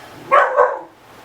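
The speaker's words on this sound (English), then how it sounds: "sorry about the dog." A dog gives two quick, fairly close barks indoors, then falls quiet.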